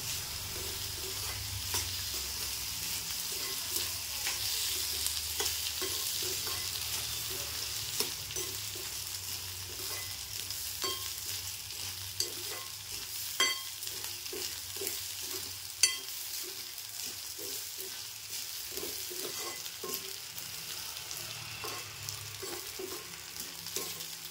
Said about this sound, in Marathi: आता मी हे तांदूळ चाळणीवर काढून ठेवलेले ते पण आता टाकून घेते आणि व्यवस्थित असे हलक्या हाताने परतून घ्यायचे